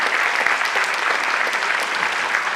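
Dense, steady applause from a large audience filling an auditorium with a balcony at a college inauguration, sustained and even throughout with no speech over it.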